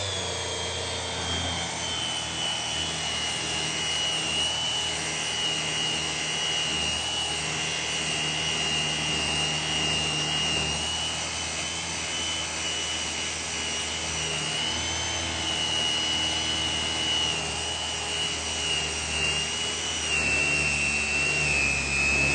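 A power tool set on grind whines steadily to remove excess glue, a loud continuous high-pitched drone with a low hum underneath, close and uninterrupted for over twenty seconds without speech.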